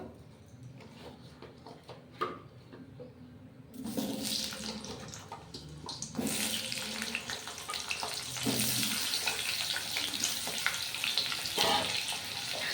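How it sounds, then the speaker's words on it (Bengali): Cut potato pieces dropped into a pan of hot oil. A quiet stretch gives way to loud, broad, continuous sizzling that grows and stays steady, with a few clatters along the way. "এই যে কেটে রাখা আলুর টুকরোগুলো দিয়ে দেবো"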